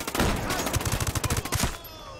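Rapid automatic gunfire in the Ghost Recon Breakpoint video game, a dense run of close, punchy shots lasting over a second, with faint background noise and no talk.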